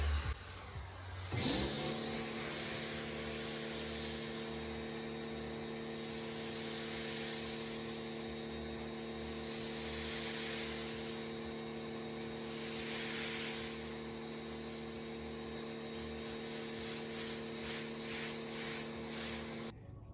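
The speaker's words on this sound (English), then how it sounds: "Now I'm going to rinse off all the residue that's left over" Water spray rinses leftover cleaning residue off a car's exterior during detailing, a steady broadband hiss that runs evenly for about eighteen seconds, fairly quiet, with a low hum beneath it and no talking.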